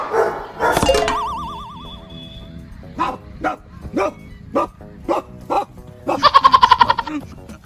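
A dog barks repeatedly in short, loud bursts, spaced out, then a quick flurry of yips at the end; a voice speaks briefly at the start.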